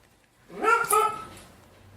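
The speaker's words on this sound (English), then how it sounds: "he has a very weird duck-like bark" Duncan, a pet dog, lets out a short pair of odd, nasal barks with a quacking, duck-like tone, fairly loud and close, ending in a brief fading whine.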